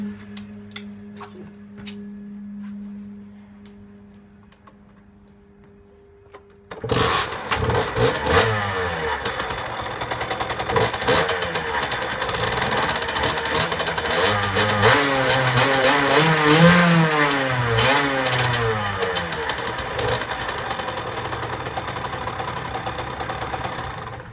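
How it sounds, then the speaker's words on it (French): A Beta RR Factory motorcycle engine with 6,476 km kicks to life after a few quiet seconds, then idles and revs up and down loudly and close by for the rest of the clip. "Donc je vais faire écouter le bruit du moteur."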